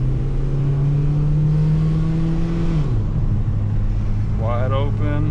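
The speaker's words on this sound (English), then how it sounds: "Still wide open" 2002 Toyota Corolla 1.8L engine with a lean fault held at wide open throttle, a loud steady drone that drops in pitch partway through, followed by a brief spoken remark over the engine.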